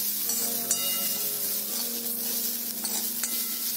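A spoon stirs a purslane sabji with coconut, green chili and cumin in a pan, making a soft sizzle and a few scraping strokes, close and quiet with no talk.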